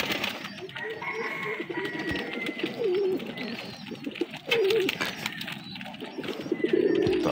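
Jalali pigeons coo repeatedly at close range, with soft rolling calls coming every couple of seconds over a low rustle of birds moving about.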